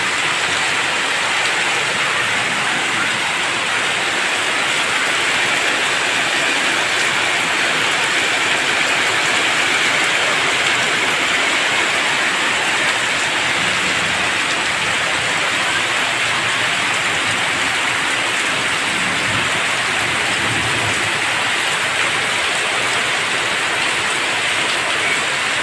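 Steady rain pours onto a veranda during a rainy-day outing, a dense continuous hiss that holds evenly for the whole stretch with no voices over it.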